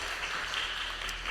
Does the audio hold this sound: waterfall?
no